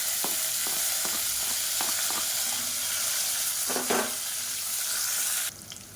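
A close, steady sizzle of chopped onion frying in a hot pan for kurma, with a few light clicks and scrapes of stirring, ending in a sudden drop.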